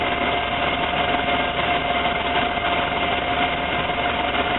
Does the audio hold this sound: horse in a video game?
no